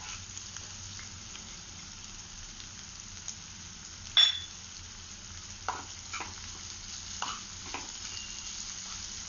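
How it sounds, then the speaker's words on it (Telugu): Onions and ginger garlic paste fry in a pan for an ivy gourd masala curry, with a steady soft sizzle and a few sharp scrapes and knocks as a spoon stirs them close by. No one talks. "ఇవి కూడా కలిపి మొత్తం కలిసి ఆనియన్స్తో కలిసిపోయేలాగా వేయించాలి."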